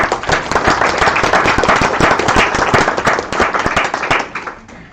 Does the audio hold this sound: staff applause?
yes